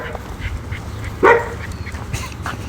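A neighbor's dog gives a few scattered short barks and yips outdoors, with one louder sharper bark in the middle, spread over faint background noise.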